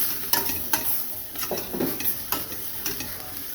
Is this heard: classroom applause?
no